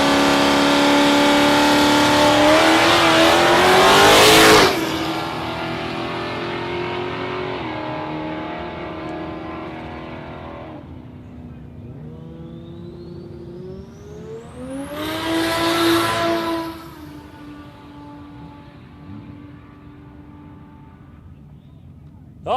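Drag race cars at Warwick Dragway, a loud close engine scream revving hard and then cutting off, a fading fly-by drone, and a second rising howl around the middle, with a commentator talking over it.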